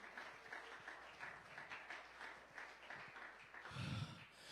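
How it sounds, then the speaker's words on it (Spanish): A church congregation applauds during a sermon, a steady mass of clapping running throughout with no voice on top, swelling slightly louder toward the end. "Si le va a aplaudir, apláudale fuerte al Señor Jesús"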